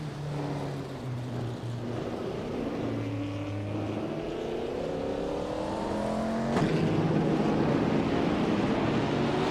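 Racing cars led by a 1962 Lotus 2.5 race away from the start, engines droning and climbing in pitch together in a loud, rising chorus, with a sharp burst of revving near the end.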